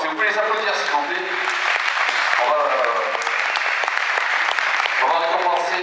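Sustained applause from an audience at a 2013 sports merit awards ceremony in Sausset-les-Pins, honoring athletes including Nam-Ho-Quyen martial arts competitors; dense, steady clapping fills the whole stretch with some voices mixed in.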